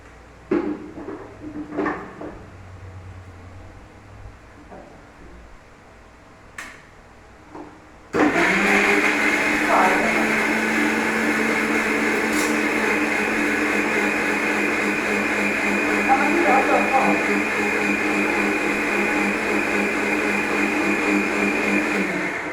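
A mixer grinder grinding breakfast batter starts suddenly after a few quiet kitchen knocks and clatters, then runs as a loud, steady whirring roar for the rest of the clip.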